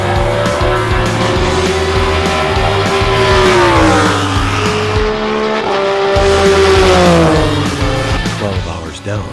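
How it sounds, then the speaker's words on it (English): Race cars at the Classic 24 at Daytona roar past, loud engine notes climbing and dropping with gear shifts and a brief tire squeal, with a commentator talking over the noise. "These are the fastest cars here this weekend."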